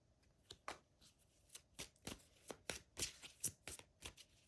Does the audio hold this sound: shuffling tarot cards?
yes